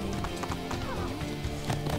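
Horse galloping in the video game Assassin's Creed 2, with steady clip-clop hoofbeats running throughout over game music and ambience, and a brief whinny-like sound.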